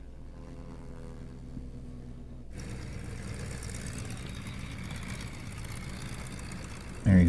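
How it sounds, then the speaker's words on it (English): Propeller airplanes at an air show pass by with a low, droning engine rumble that starts quietly, grows fuller after a few seconds and stays steady, ending in a brief loud burst. "I like hearing the engines go by."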